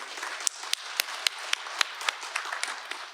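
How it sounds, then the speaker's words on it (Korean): Applause at an apartment reconstruction briefing for a housing complex in Changdong, a modest crowd clapping at moderate distance, with a few sharper, louder claps standing out at a regular beat above the softer patter. "큰 박수로 맞이해 주시기 바랍니다."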